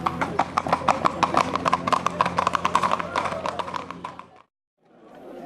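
Horses' hooves clip-clop rapidly and steadily on pavement during an abrivado, a Camargue street event where riders herd bulls. The hoofbeats are loud and close under crowd noise and a voice, then stop abruptly near the end.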